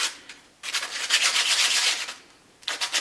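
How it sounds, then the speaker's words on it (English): A walnut hardwood dowel is sanded in two bursts of steady, raspy rubbing: a long stretch of close, loud abrasion, a brief pause, then a shorter burst. "I will give it a quick sand"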